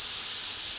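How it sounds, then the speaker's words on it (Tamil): A pressure cooker whistle vents steam while rice and dal cook, a loud, close, steady hiss that holds evenly through the short moment. "குக்கர் விசில் வந்துட்டு இருக்குது."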